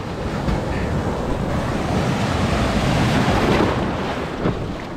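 Ocean waves and surf along the New Zealand coast, heard from a kayak, a steady loud wash of breaking water with heavy wind buffeting the microphone throughout.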